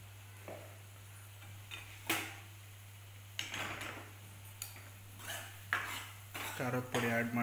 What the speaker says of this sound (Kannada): ಖಾರದ ಪುಡಿ ಆ್ಯಡ್ ಮಾಡಿಕೊಂಡು ಮಿಕ್ಸ್ ಮಾಡಿ